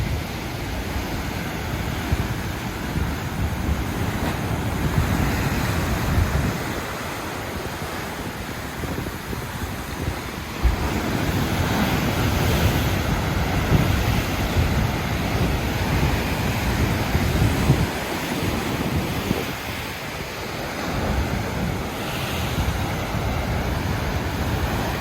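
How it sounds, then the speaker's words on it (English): Strong wind roars and buffets the microphone in steady gusts near Puerto Viejo, Costa Rica, with a low surf-like rumble underneath and no voices. "So it's a little windy out here."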